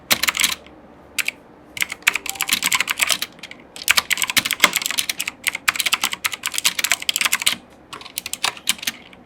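Crisp, clicky bursts of typing on a compact Rapoo mechanical gaming keyboard with blue switches, fast irregular keystrokes close up with short pauses between runs, no voices.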